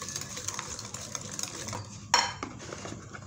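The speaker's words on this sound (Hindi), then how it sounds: "इन सब चीज़ों को डालकर इसको कर लेंगे हम मिक्स" A spoon clinks and scrapes through a dry mix of black pepper, oregano, salt and sugar for shawarma, soft quick scratching strokes close up with one sharper metallic tap partway through, no voices.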